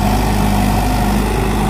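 Mahindra 575 XP Plus 47 HP diesel tractor engine runs close and loud, a steady, even drone with a humming low throb and no change in pace across the short stretch.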